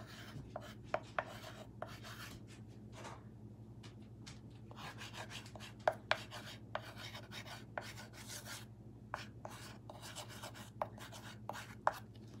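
Chalk scratches and taps across a chalkboard painted with Fusion mineral paint on an old 1970s wood art panel, a quiet run of short rubbing strokes with occasional sharper ticks against a faint steady hum.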